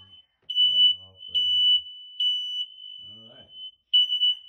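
A smoke alarm in a third-floor bedroom of an apartment unit sounds with a steady, piercing high tone that pulses in loud bursts, while someone talks intermittently over it.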